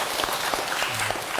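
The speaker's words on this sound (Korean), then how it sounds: "박수 한번 주세요." Audience clapping for a Buddhist monk's question-and-answer talk: a dense, steady wash of many hands close by, sustained without break and with no voices over it.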